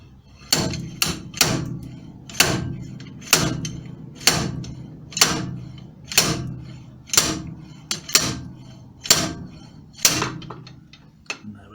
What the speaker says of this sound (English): Using just the wheel to get the half shaft out didn't work, so we've borrowed a slide hammer.